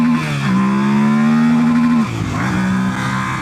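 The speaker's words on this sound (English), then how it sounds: "Yep, that's the rev limiter right there." A 2025 Yamaha Tenere 700 with stock exhaust and a flashed ECU revs hard up to the rev limiter, a loud, close engine whine that holds high, then drops and bounces briefly against the limiter.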